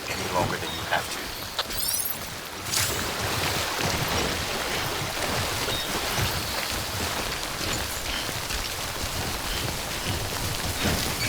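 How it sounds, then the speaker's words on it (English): Rain falls steadily in the Death Stranding 2 video game, a dense hiss broken by a few sharp early sounds, while a voice talks over it intermittently. "És esik az eső."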